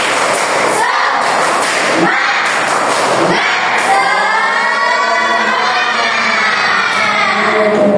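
A class of students claps out a patterned spirit cheer, sharp rhythmic claps and thumps giving way to sustained chanting voices, the whole group loud and close.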